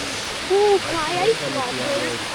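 Khao Ra waterfall in Thailand roars as a steady broadband rush beneath someone speaking nearby.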